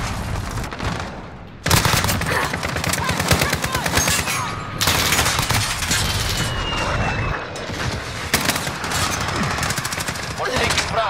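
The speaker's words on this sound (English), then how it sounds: "We're taking shots." Gunfire in the video game Call of Duty: Modern Warfare comes as dense, loud, sustained automatic bursts with sharp cracks, continuing almost without pause, while radio-style callouts and voices are heard underneath.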